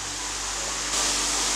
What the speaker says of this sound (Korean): 다이 폭포의 물소리를 여러분에게 선물합니다